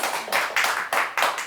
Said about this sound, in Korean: 다시 한번 박수 부탁드릴게요